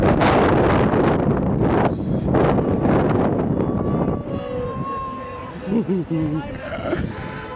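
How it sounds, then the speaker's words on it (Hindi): Cold wind buffets the microphone in loud, rough gusts at Yonge-Dundas Square in Toronto, then eases into quieter outdoor city ambience with faint tones. "काफ़ी ठंडी ब्रीज आई है एक तरह से"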